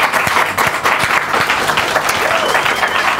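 Loud, dense applause from a live comedy show audience, continuous and close, with individual claps standing out throughout.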